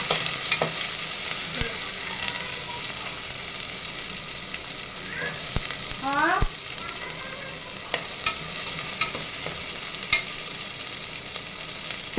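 Masala paste sizzles steadily in a hot pan and is stirred now and then, making a constant close hiss broken by occasional scrapes and clinks.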